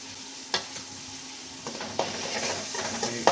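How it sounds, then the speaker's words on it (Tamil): Onions sautéing on high flame for fried noodles, a soft continuous sizzle broken by several sharp spatula clinks and scrapes against the pan, heard alone. "லைட்டாக வதக்குவாங்க ஹை ஃப்ளேமில் வச்சு"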